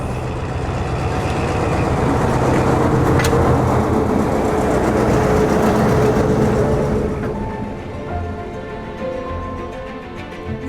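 A heritage railway locomotive runs on an evening line, a loud sustained rumble of engine and wheels that swells, holds for several seconds, then slowly fades as it passes.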